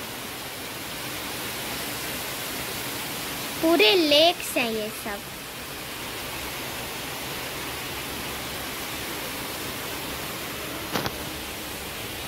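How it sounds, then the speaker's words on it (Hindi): Heavy rain pours down in a steady, dense hiss that fills the whole stretch, with someone speaking briefly over it partway through. "देखिए फ्रेंड्स कितनी जोर से बारिश हो रही है"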